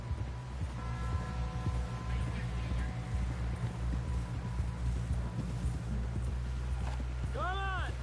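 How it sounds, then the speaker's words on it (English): Hooves clip-clop steadily as a horse gallops in the video game Red Dead Redemption 2, a rapid rhythmic patter under a low rumble of ambience, ending with a short whinny-like sweep near the close. "Someone help John down off this horse"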